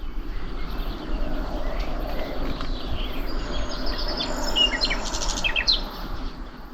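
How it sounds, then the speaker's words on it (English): Birds sing and chirp by a stream at sunset, scattered bright calls over a constant broadband wash of flowing water and faint insect hum. "But listen to the birds."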